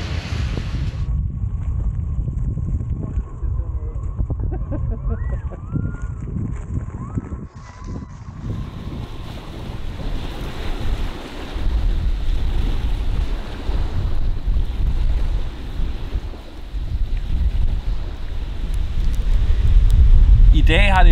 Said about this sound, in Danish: Sidenhen der er der kommet vind